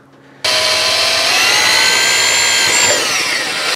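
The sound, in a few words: power drill drilling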